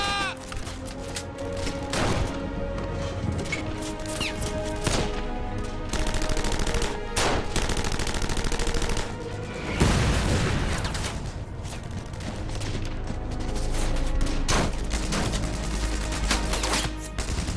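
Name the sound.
gunfire in WWII castle battle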